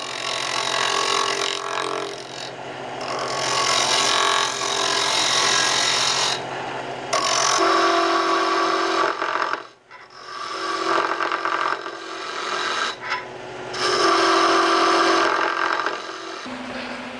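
A lathe turns down the diameter of a brass stop collar for a tool rest, a loud continuous whining cut with harmonic tones, broken by short pauses where the cutting stops and resumes.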